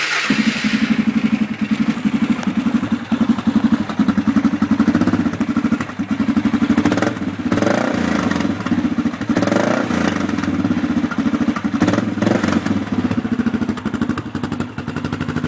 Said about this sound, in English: We're going to crank it up, see how she sounds now.